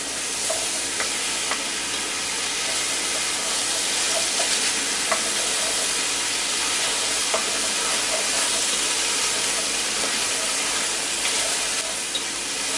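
Steady sizzling of potatoes frying in oil, a continuous crackling hiss with small pops scattered throughout, close up and fairly loud.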